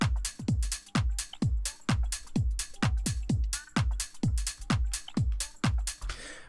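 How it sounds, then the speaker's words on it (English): A simple minimal-house drum loop programmed in Ableton drives along with punchy kick drums on a steady beat, interleaved with crisp hi-hat and snare hits, looping evenly and loudly with no voices. "I've got a simple drum loop that sounds like this."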